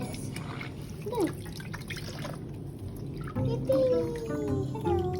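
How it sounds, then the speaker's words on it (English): Lukewarm water trickles and pours into a toy, a steady close dribbling and splashing that runs throughout with a few brief high tones over it. "we poured the lukewarm water in"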